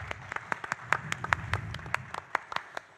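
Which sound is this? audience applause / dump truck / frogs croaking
audience applause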